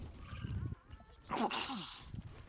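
One sharp, close sneeze bursts out in the middle, preceded by quieter muffled talk and background noise during an online game session.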